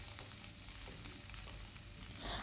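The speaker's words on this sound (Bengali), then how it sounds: "পনির যখন ভাজা হয়ে যাবে" Paneer fries in a pan, giving a soft, steady sizzle with occasional stirring scrapes, quiet and close, with no talking.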